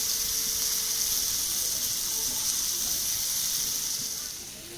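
Raisins frying in hot oil for papaya pulao give a steady, close hiss and sizzle that holds evenly for several seconds before easing slightly at the end, with no talk over it.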